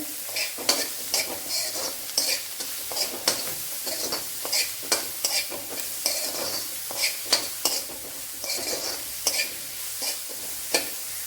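Onions with salt and curry leaves fry and sizzle steadily in a pan while a spoon stirs them in repeated scraping strokes, with no talk over the cooking.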